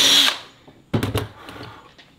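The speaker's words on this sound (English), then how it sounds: "Got a hole nice and drilled." A power drill boring a hole gives a brief high whine, then falls silent before a few rough thuds and rattles from the workpiece follow close by.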